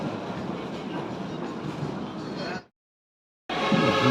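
Light rail LRT train in Manila, a steady loud rumble and roar of the moving train close by, cutting off abruptly to silence before resuming.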